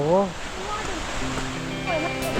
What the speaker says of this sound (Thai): แล้วเราก็มาถึง น้ำตกโกรอีดก